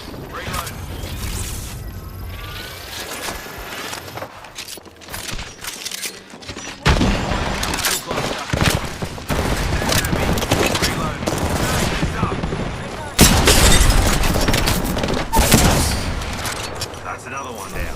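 Rapid bursts of gunfire from an Apex Legends match crackle through a loud, dense battle soundscape, with mechanical clicks and sharper volleys surging midway and near the end while a player talks over it.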